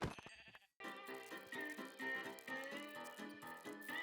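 Sheep bleating in Minecraft, a wavering, nasal bleat that comes in quick pulsing bursts after a short break, fairly close and clear.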